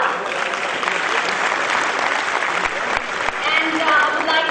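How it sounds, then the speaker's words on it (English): A large audience at a symposium session applauds steadily and loudly throughout, a dense continuous wash of clapping with faint voices mixed in. "give a huge round of applause"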